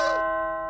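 A ghostly bell toll sound effect, a single deep resonant strike with rich ringing overtones that hum and fade slowly, loud and alone.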